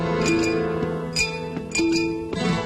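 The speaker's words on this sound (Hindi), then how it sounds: "ये संगीत ग्लास को चम्मच से बजाकर निकाला गया है।" A glass struck repeatedly with a spoon, bright ringing clinks in a musical pattern, each tone lingering briefly, clear and fairly quiet.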